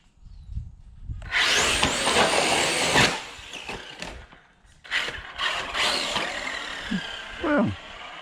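A Redcat 6S Landslide XTE RC car at full throttle attempts a backflip: a loud, close electric motor whine surges for about two seconds, then cuts out, followed by scattered crunches, rustles and more bursts of motor noise.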